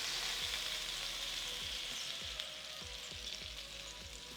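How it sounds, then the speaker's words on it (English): A cream sauce simmers and reduces in a pan, giving a soft, continuous bubbling sizzle with faint low popping under it and no voices. "let it simmer until it's about half what you started with"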